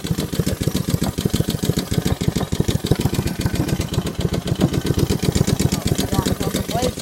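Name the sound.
Honda HRR216 lawn mower engine running at low throttle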